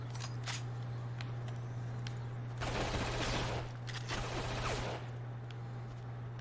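Automatic gunfire in the shooter video game Black, two rapid sustained bursts of moderately loud rattling shots over a steady low electrical hum, with a few isolated clicks before them.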